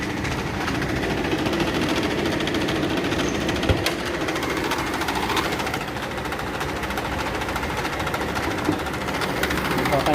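A Nissan Pathfinder engine runs steadily with its loose, noisy cooling fan, a continuous rattling whir and clatter up close under the hood, while someone talks faintly over it.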